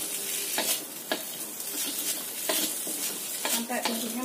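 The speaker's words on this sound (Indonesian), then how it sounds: "Kita aduk" Tofu and rice vermicelli sizzling in a frying pan while being stirred, steady frying hiss with repeated scraping clinks of a utensil against the pan at close range.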